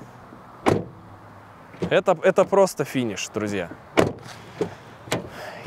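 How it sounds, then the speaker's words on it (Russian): A Toyota Camry car door shuts with a solid thump near the start, followed by someone talking excitedly, with another dull knock partway through. "когда вы услышите звук закрывания двери"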